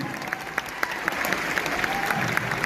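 An audience at a Safe Shop celebration event claps steadily and fairly loudly, a dense continuous applause with some sharper individual claps standing out.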